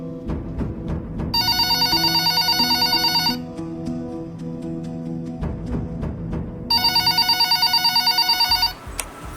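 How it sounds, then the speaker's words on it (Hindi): A telephone bell rings in two loud bursts of rapid trilling, separated by a pause, over a background of music or other noise. "अरे देखो किसका फोन आ रहा है भाई।"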